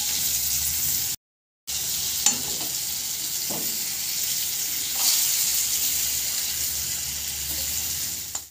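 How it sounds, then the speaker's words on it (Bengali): Potatoes with salt and turmeric frying in a pan give a steady, close sizzle with a few stirring scrapes, a brief gap near the start, and no voices. "আমি নুন হলুদ অ্যাড করলাম, করে আলুটাকে একটু ভেজে নেব।"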